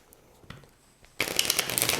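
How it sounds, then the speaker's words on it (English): Cards from the One Deck Dungeon board game are shuffled in one dense, crisp riffling burst that starts partway through and runs to the end, close and fairly loud after a few quiet soft handling taps. "Now what we do is we go ahead and shuffle everything"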